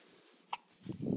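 A baby girl's single short hiccup, a brief faint click-like catch, followed by soft low rustling and handling noise close by.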